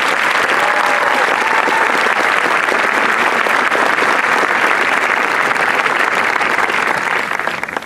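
Sustained audience applause for a high school marching band's eighth-place finish at an invitational competition, dense and steady throughout before tapering off at the end.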